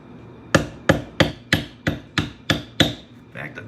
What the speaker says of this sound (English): I need my little bitty hammer, which is this one here.